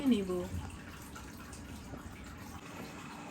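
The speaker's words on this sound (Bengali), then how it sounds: "এবার আমি ছানাটিকে ধুয়ে খুব ভালোভাবে জল ঝরিয়ে" Chhana cheese curd rinsed and drained, with soft running and trickling water, fairly quiet and steady, and a voice briefly speaking at the start.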